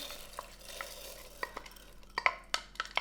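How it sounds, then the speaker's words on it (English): Lentils go into a pot of boiling water and are stirred, with scattered light scraping and clinking sounds of a utensil against the pot over a soft bubbling background. "Once the water's boiling, you can add the lentils, and I'm going to add the lentils right now."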